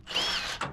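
A power tool whirs loudly up close, briefly spinning to loosen leaf spring shackle and mount bolts on a first-generation Toyota pickup truck, with a short second burst at the end.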